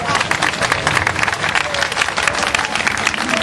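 An audience at a heritage festival event claps for an honoured guest, a loud continuous patter of many hands, steady and close.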